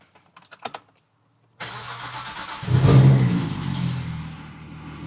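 A BMW E60 engine cranks briefly, catches and starts, then revs up with a rising roar before settling into a rough, uneven idle, close and loud; a few faint sounds come before the start.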